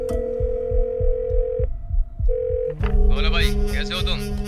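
A steady tone pulses with low beats, then a ringing tone sounds twice, followed by a bright, warbling electronic phone ring.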